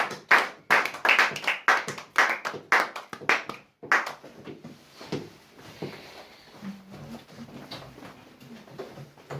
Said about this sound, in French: recevoir l'homme de Dieu, l'apôtre Timothée, tu acclames pour la gloire de Dieu